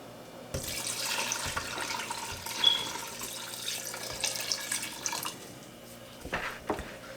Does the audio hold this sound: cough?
no